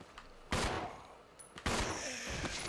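Video game gunfire in Resident Evil 0: two loud sharp shots about a second apart, each with a short ringing tail, plus a faint softer pop in between.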